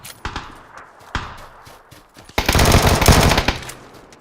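Gunfire from the PUBG video game on the Sanhok map: a few sharp single shots, then a dense, loud automatic burst lasting about a second before cutting off.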